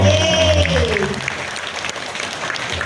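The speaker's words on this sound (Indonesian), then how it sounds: "Tepuk tangan dong" Audience applause at an Indonesian public talk: a voice trails off at the start, then broad, steady clapping from the crowd fills the rest of the clip at moderate loudness.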